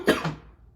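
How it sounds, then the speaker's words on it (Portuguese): A single short cough, close and fairly loud, with a brief second burst right after it, then quiet. "Uma tosse."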